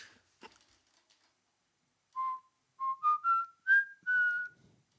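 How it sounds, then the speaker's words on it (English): Someone whistles a short tune, a few clear sustained notes rising and falling after a brief rustle and pause. "This is really pushing my whistling talents, guys."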